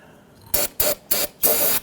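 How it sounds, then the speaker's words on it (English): Four short bursts of spray cleaner hissing onto a brake hose nut on a 2006–2010 Hummer H3, close and crisp with brief gaps between them and no talking. "I'm going to go ahead and just spray down this nut"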